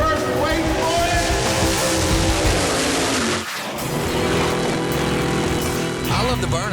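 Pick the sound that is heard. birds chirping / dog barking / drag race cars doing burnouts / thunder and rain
drag race cars doing burnouts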